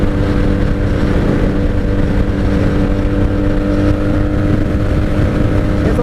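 A 1997 Honda Magna VF750C motorcycle cruises on the highway, its engine droning loud and steady from up close, mixed with rushing wind noise throughout.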